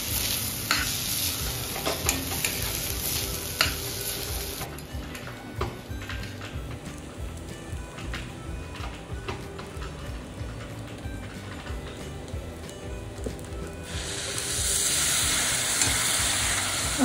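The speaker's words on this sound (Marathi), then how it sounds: "त्यामध्ये आपल्याला गरम पाणी ओतायचं आहे." Frying millet sizzles and is stirred with repeated scraping clicks, then hot water is poured in near the end and the sizzle rises into a steady hiss.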